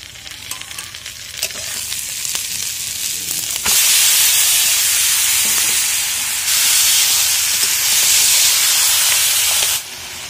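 Chicken meat and green chilli sizzle loudly in a hot pan, a dense, steady hiss that swells suddenly and stays intense, with occasional stirring scrapes.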